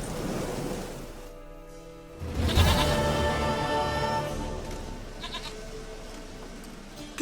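Goat bleating in the video game The Witcher 3, a couple of nasal, wavering bleats up close, with a surf-like ambient wash underneath.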